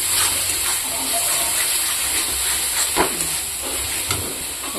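Water goes into a pan of frying masala for a fish dish, and the steady sizzling hiss gives way to a few louder bursts and bubbling gushes close by.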